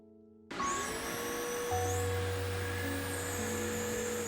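A budget vacuum cleaner with its main brush attached switches on and runs alone, a steady loud whine and motor hum holding throughout with a slight shift in pitch partway through.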